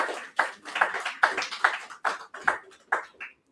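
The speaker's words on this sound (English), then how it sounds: "that certainly deserves a round of applause" Applause from an audience at a company annual general meeting, heard as a steady run of claps in uneven bursts, close and fairly loud, with no talking over it.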